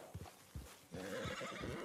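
A horse in Red Dead Redemption 2 gives a few snorts and hoof thumps, then breaks into a loud, wavering whinny that carries to the end, close and clear.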